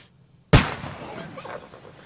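A single sharp gunshot in Kingdom Come: Deliverance II cracks loudly out of silence, followed by a decaying rumble and faint voices in the background.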